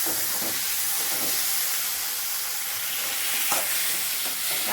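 Tomatoes sauté in a pan for a gram flour kurma, a continuous close hiss of sizzling under the occasional scrape and tap of a stirring spoon.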